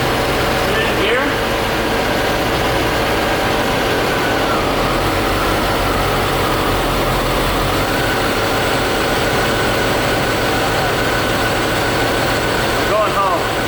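A Corvette C4 engine with a misfire idles steadily and loudly for the whole stretch, a constant low rumble with faint talk in the background.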